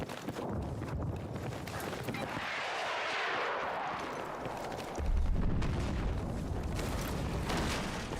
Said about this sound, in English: You're close to an airstrike.